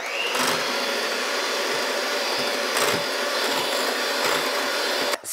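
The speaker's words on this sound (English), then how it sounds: "But now it's just 6 egg whites, I use my hand mixer." Electric hand mixer beating six egg whites for a zero-carb pizza dough, a steady high whirring drone with a faint tonal whine, continuous and close, cutting off abruptly at the end.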